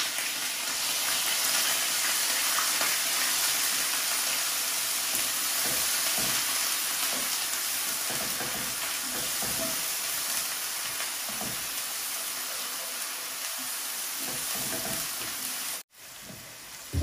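Garlic and onion fry in a pan for shorshe ilish, giving a steady, close, dense sizzle and hiss that runs unbroken, with faint stirring scrapes and a brief dropout near the end.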